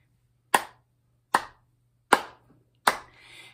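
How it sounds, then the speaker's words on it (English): Four sharp hand claps sound close and alone, spaced roughly evenly about a second apart, each crisp with a quick decay. "I'm going to clap my hands to you"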